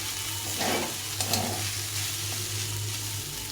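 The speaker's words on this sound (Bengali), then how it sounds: "একটু নেড়ে চেড়ে ভেজে নিতে হবে ভালো করে।" Leftover cooked rice being stirred and fried in a pan with a splash of vinegar, a continuous sizzle broken by clattering spatula strokes, with a low steady hum underneath.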